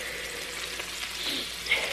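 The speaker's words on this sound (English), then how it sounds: "I'm frying up some chicken right now." Chicken fries in a pan in a home kitchen, giving a steady, close hiss and sizzle with faint crackles throughout.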